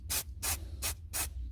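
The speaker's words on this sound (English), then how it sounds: "using the primer spray as a glue and adhesive" A primer spray can sprays onto a model kit of the Trumpeter Titanic wreck in four short, evenly spaced hissing bursts, close and fairly quiet.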